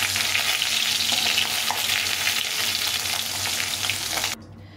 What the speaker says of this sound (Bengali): এখানে বাকি মাছটা এখানে ভেজে নিচ্ছি